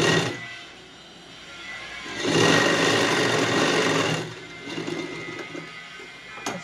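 A sewing machine stitches a puff sleeve in bursts, whirring softly, then running loud and steady for a couple of seconds, then a shorter, quieter run. It is close, with no talk.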